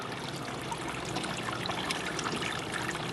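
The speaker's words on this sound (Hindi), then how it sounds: "पानी का झरना इसमें कंटिन्यू चलता रहेगा।" A small water fountain in a Janmashtami Govardhan hill display trickles continuously, producing a soft, even babble of water that stays close and steady throughout.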